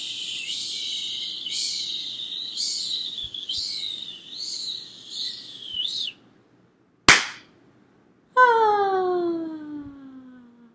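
A voice imitates a firecracker: a rising whistle, a sharp pop, then descending whooshing tones like a firecracker launching into the sky and bursting, with birdsong-like chirps beforehand.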